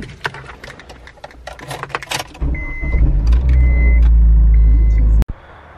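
A turbocharged Mitsubishi Lancer being driven in: clicks and rattles, then the engine starts with a loud, close, steady rumble that runs for a few seconds and cuts off abruptly with a sharp bang.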